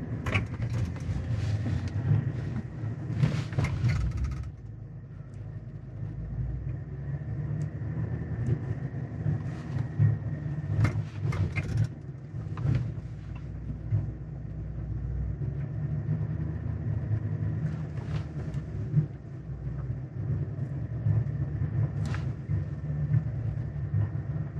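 A 2022 Chevrolet Silverado ZR2 pickup crawls slowly up off-road terrain, its engine a low steady rumble with occasional knocks and creaks from the body and suspension, and no talking over it.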